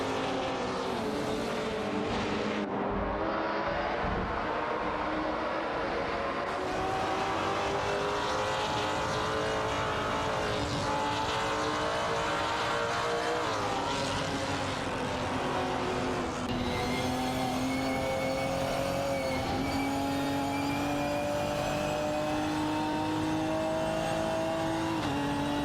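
Ferrari 488 GT4 and Ford Mustang Boss 302 GT4 race cars in a video game, engines droning and revving continuously and loudly, pitch shifting as they accelerate and pass.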